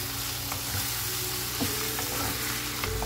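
Salt, coriander powder and black pepper get stirred into a sizzling frying pan for a bitter gourd dish. A steady fry hiss runs throughout, with a few soft spoon scrapes and knocks and no talking.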